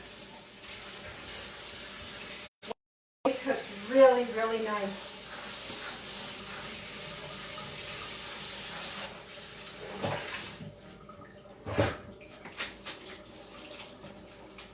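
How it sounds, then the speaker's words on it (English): Cold tap water runs and splashes over freshly cooked, starchy potatoes being rinsed in a kitchen sink, a steady close wash with brief gaps, while someone talks over it. "And then I rinse them with a little bit of cold water."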